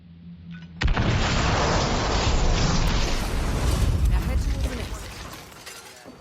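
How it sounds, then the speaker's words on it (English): A sudden loud video game explosion in Hitman bursts in with a shattering crash, then a long rumbling roar of debris that slowly fades out. "I'm going to stick around to witness the explosion"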